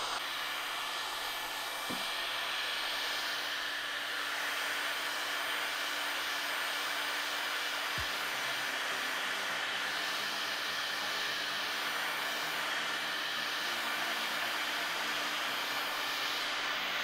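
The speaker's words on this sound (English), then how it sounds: "Okay, heat gun time." A heat gun runs steadily after scorch-pen work, its even, fan-driven whoosh filling the whole stretch at a constant level, with a couple of faint clicks early on and no talk.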